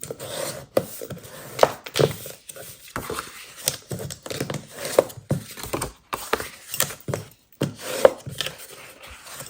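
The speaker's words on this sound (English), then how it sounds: "I'm going to fold on all the score lines and then burnish with my bone folder." A bone folder rubs firmly along folded paper score lines on a cardstock marker box, making short, repeated scraping strokes close up, separated by brief pauses and light taps.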